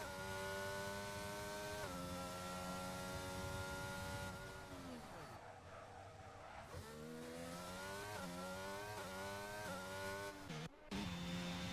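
F1 race car in a video game on a flying qualifying lap at Azerbaijan: a loud, high-revving engine wails upward through quick gear shifts, drops pitch as it brakes hard mid-lap, then climbs again through several more upshifts.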